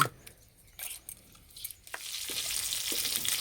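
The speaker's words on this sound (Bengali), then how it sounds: "ডিম ভাজা হয়ে গেছে, তুলে নেব" Eggs fry in a pan of oil: a soft steady sizzle that builds from quiet to fuller, with a few scattered pops and scraping taps early on and no talk.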